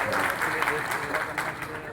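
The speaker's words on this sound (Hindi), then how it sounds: "ऐसे महेंद्र सिंह जी के लिए जरा तालियां बजाकर स्वागत करें।" An audience at a public inauguration event applauds to welcome Mahendra Singh, a thick burst of clapping throughout with some voices mixed in.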